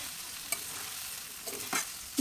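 Chow mein with turmeric, cumin, coriander powder and Maggi masala stirred and fried in a pan, a soft continuous sizzle with a few scraping stirs of the utensil against the pan, close and fairly quiet.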